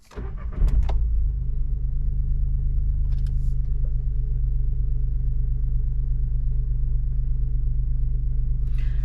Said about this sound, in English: this is a typical 3-cylinder sound in the car